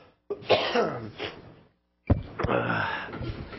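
Two separate bursts of harsh coughing, close and fairly loud, with a short silent pause between them.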